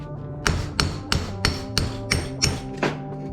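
Repeated hammer blows driving a U-joint cap through its yoke without a press, about eight sharp metallic strikes at a steady rhythm, close and ringing, with no talking.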